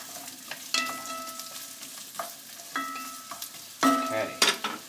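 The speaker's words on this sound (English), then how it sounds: "let me just give that a little stir around." Celery and vegetables stirred in a frying pan, a steady sizzle broken by several distinct scraping stirs with a utensil, close and fairly loud, no talk.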